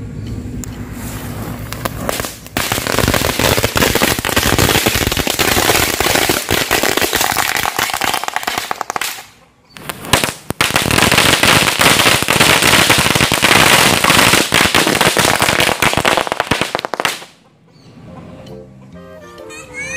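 A long string of firecrackers set off for Ramadan, a dense, loud, continuous crackle of rapid bursts that runs for several seconds, breaks off briefly, then roars on again before stopping.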